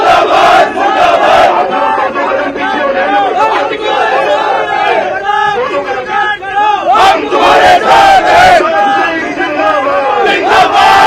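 A political protest crowd over petrol and diesel price rises shouts loudly and continuously in unison, with rhythmic chanted slogans and overlapping voices that stay dense and close throughout.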